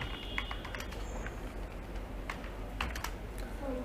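Keys clatter on a computer keyboard as text is typed into MS Word. The taps come in quick, irregular clicks, close but faint over a steady background hiss, and no one talks.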